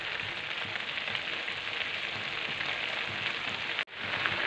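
Milk and beetroot boil in a pan, giving a steady, dense bubbling hiss that runs without a break at moderate loudness, cut by one brief dropout near the end, with no voices.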